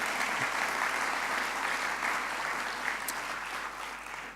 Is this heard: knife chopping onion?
no